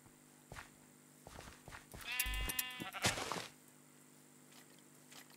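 Sheep in the Minecraft video game bleat in a short burst of a couple of wavering calls, heard alone amid faint clicks and game sounds.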